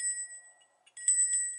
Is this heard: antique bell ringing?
yes